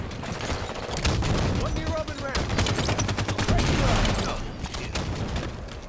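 A grenade blast and bursts of gunfire in the video game Halo 5 keep up a dense, loud, continuous barrage of shots with a rumbling low end.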